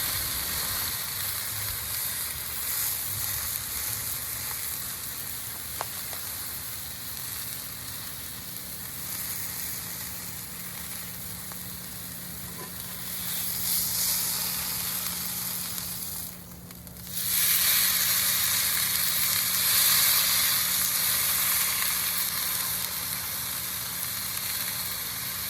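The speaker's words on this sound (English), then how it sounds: "At this point, you can finish searing it" Beef tri tip roast searing over high heat on a Kamado grill, a loud steady sizzle that runs throughout, with a brief dip before the hiss swells back even stronger.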